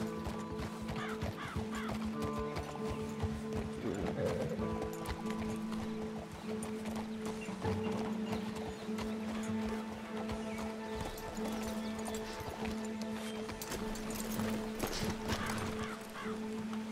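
Horse hooves clip-clop steadily and close by in the video game Red Dead Redemption 2, with an occasional whinny over a continuous layer of game ambience.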